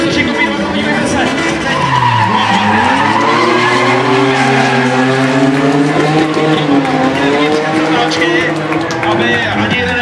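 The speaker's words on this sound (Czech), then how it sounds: "To je to, co chceme vidět, to je sport, to jsou drifty!" Drift cars slide around a race track, their tires squealing in long wavering tones over loud engine roar for the whole stretch, while an excited commentator talks over it and a crowd murmurs faintly.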